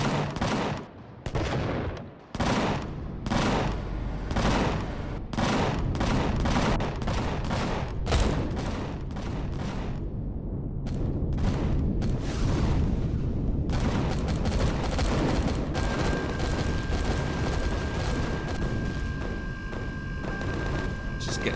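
A ship's dorsal guns firing in the space survival game Empyrion Galactic Survival, loud repeated booming shots in a rapid irregular barrage that turns into a dense, continuous fusillade with a sustained tone in the latter half.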